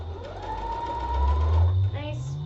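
A sewing machine stitches a skirt in long runs, its motor whirring loudly and close by. The hum rises in pitch, then drops briefly before starting again, and the stitching goes on with no speech over it.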